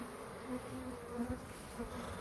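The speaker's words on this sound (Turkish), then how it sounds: "Bak bu dışarıda da arı var." Honey bees buzz just outside the hive, a close, continuous droning hum with small flickers as individual bees fly past, and no talk.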